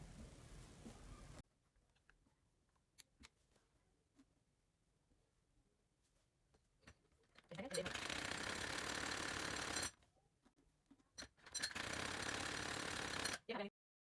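A sewing machine runs in two sustained bursts, stitching a strip along the round neckline of a kameez after a long quiet stretch with a few small clicks.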